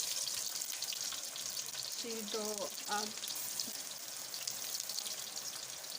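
Eggplant pieces fry lightly in a pan for masala baingan with a soft, continuous crackling sizzle, and a short burst of a voice is heard midway.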